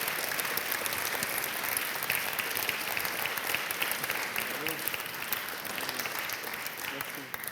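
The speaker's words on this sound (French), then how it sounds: "sous vos applaudissements, je vous propose de remettre ce prix" Dense audience applause during an award presentation at a mentoring month launch ceremony, a loud, continuous clapping texture that stays full and even from start to finish.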